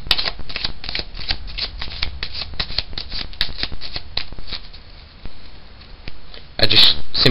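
A deck of playing cards being shuffled for a card trick, with a steady run of quick riffling flicks close up, ending in a louder burst of card noise.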